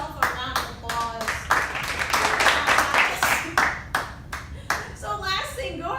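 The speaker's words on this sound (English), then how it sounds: "Give yourself a round of applause." A scattered round of hand clapping from a small group, uneven and fairly close, with voices talking over it.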